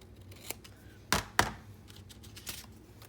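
Scissors snipping paper for a fold-out pocket journal insert, a few sharp crisp cuts in close succession, near and clear against a quiet room.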